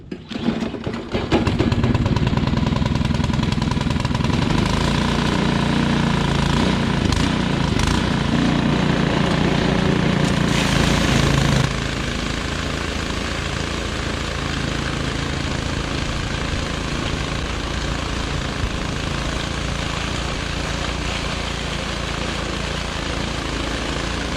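A gas snowblower engine runs loud and steady close by, revving harder in the first half before settling to a slightly lower, constant drone.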